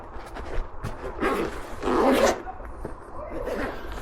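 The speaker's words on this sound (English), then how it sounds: "Zip it up and be done with it." A zipper is pulled closed on a rolled-up fabric e-bike accessory bag, several quick rasping strokes up close with no talking.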